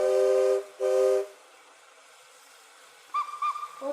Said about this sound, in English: the train's getting ready to leave